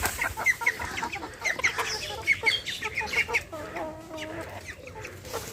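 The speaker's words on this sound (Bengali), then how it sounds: "এদিকে মুরগিগুলো বৃষ্টি আসলে ভিজে যাবে" Household chickens clucking close by in short, sharp repeated calls, with a busy farmyard murmur behind them and a few low voices in the background.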